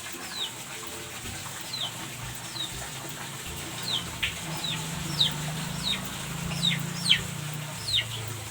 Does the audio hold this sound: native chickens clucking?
yes